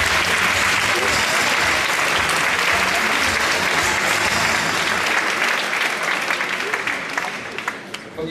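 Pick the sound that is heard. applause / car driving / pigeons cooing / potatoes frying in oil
applause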